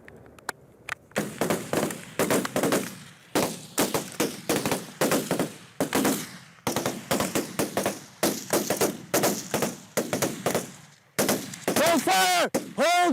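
Rifles fire during weapons training in Syria, with rapid bursts and strings of sharp cracks repeating across the scene, close and loud, separated by brief pauses, and a voice shouting near the end.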